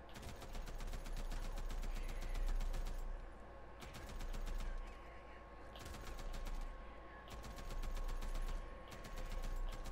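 A big gun blasting through a zombie horde in the Days Gone video game, firing in long rapid bursts separated by brief pauses, loud and close, with a low rumbling bed beneath.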